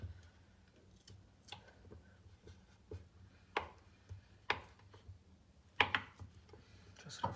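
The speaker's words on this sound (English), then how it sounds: "Gonna cut the butter in small cubes so it will get" A knife cuts a block of butter into small cubes on a board for pie dough. Sharp, close taps and clicks come at an irregular rhythm, some louder than others, over a low background hum. No one speaks.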